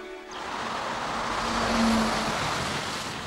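A car driving on a road toward Bonn, a steady whooshing rush of road noise that swells gently and then eases.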